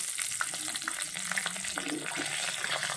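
Cumin seeds and bay leaf hitting hot oil give a bright, crackling sizzle with small popping spits, steady and close with no talking.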